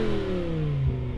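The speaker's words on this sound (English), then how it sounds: "Let's hear that old M5." A BMW M5 V10 Touring engine sounds briefly, a steady mid-pitched drone with a slowly falling tone, fairly faint and short.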